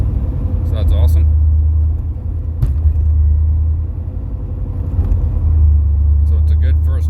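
A boosted LS V8 car cruises around the block, its low engine rumble steady and loud from inside the cabin, swelling and easing slightly, with a few faint clicks and high squeaks over the drone.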